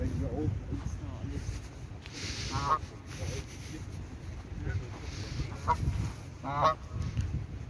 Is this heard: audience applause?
no